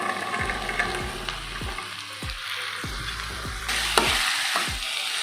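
Green peas and long-cut vegetables sauté in a pan for fried rice, with a steady, lively sizzle punctuated by regular dull thumps of a spatula stirring, close and with no talk.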